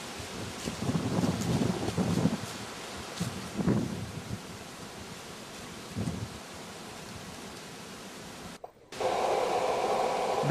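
Breezy late-October afternoon wind in the woods during a bow hunt, gusting in broad rushing swells against the microphone with rustling leaves, easing off, then a brief dropout before a steadier, brighter rush returns; no voices.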